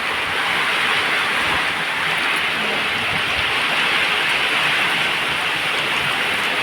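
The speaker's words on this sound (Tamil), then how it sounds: "சரியான மழை பிடிச்சிக்கிச்சிங்க." Heavy rain pours down in a steady, dense hiss that stays loud and unbroken throughout.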